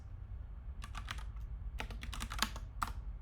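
Faint, quick keystrokes on a computer keyboard as code is typed, coming in two short bursts of clicks separated by a pause, heard alone against a low background hum.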